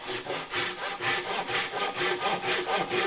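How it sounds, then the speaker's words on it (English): A sharp Japanese handsaw cuts through wood with light pressure, making steady rhythmic rasping strokes, about three per second. The sawing is close and clear, with no voices. "With a sharp Japanese handsaw, there's no need for a lot of pressure. The saw cuts"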